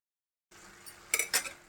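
A metal lid set down on a cooking pan while spinach and coconut fry cooks, giving two quick close clinks with a brief metallic ring after a short stretch of quiet.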